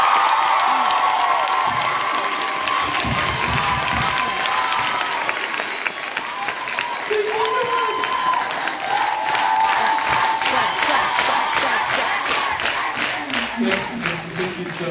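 An audience at an opening ceremony applauds and cheers in a large hall, a steady roar of clapping with shouts, whoops and excited voices rising and falling, the claps turning sharper and more rhythmic toward the end.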